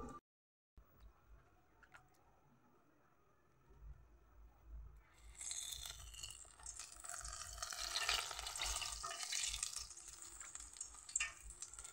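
Urad dal vadas for dahi vada fry on a medium gas flame, a steady sizzle that starts quietly and swells into a loud, bright crackle after a few seconds as the batter hits the hot oil.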